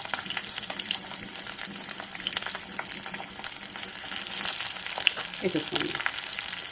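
Dry red chillies, peeled garlic and cumin fry in a pan with a soft, continuous crackle and sizzle, with brief stirring noises, while someone talks quietly over it now and then.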